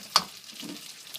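Garlic prawns stirred in a frying pan: one sharp utensil clack, then a low steady sizzle with faint scraping, close and quiet.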